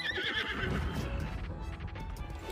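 A horse neighs loudly in Zelda: Breath of the Wild, a single high whinny close up, followed by softer hoof clip-clop and game ambience.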